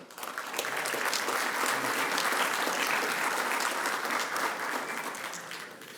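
Strong applause from the audience at a Colegio de Abogados de Lima ceremony welcoming a dean, a full, sustained burst of clapping that swells quickly, holds steady, then tapers off.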